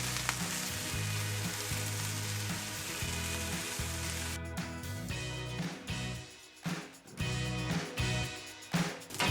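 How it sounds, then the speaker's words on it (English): Peppers and onions sizzling in a pan for shakshuka, a constant close frying crackle with a low background hum, then stirring scrapes and clatter breaking in during the second half. "this is the most important part, cooking down the peppers and onions"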